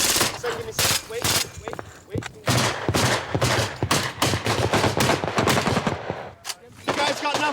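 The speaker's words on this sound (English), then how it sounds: "Oh, that's the machine gun," Machine gun fire in a battle during the Devil's Brigade assault on Mount Defenza, rapid loud bursts crackling almost continuously with sharp individual reports, with voices talking in between.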